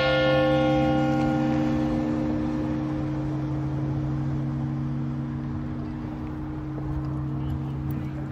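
A large church bell's single stroke hums on, its deep layered overtones fading slowly into a long, steady resonance with a faint outdoor murmur beneath.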